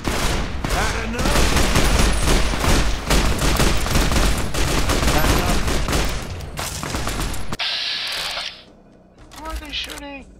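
Sustained, heavy gunfire in the video game Fallout New Vegas, dense overlapping shots forming a continuous loud barrage that cuts off abruptly near the end, followed by a few scattered sounds.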